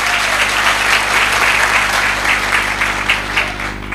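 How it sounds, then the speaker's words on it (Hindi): Loud, dense applause fills a hall during a motivational speech event, a sustained roar of many hands clapping at full strength, fading only slightly toward the end. "दमदार जोरदार तालियां होनी चाहिए"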